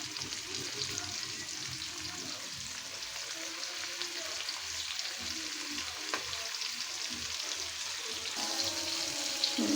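Hilsa fish fry in a pan with a steady, close sizzle and crackle of hot oil and occasional stirring or scraping, with no voices.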